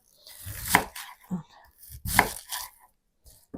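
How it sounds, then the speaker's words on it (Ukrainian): Two firm knife strokes crunching through crisp cabbage onto a board, with softer cutting sounds between them, close up and without talk. "Нарізаю ось такими шматочками."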